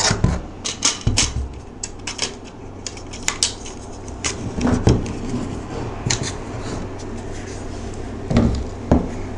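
Rubber feet being fitted onto the underside of a pedal Power Box unit, heard as a series of close, sharp plastic clicks and knocks scattered irregularly over a faint background hum, with no talking.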